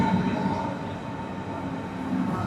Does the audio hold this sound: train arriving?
yes